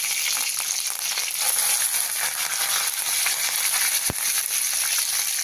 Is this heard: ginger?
yes